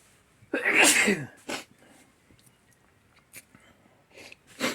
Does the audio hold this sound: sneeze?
yes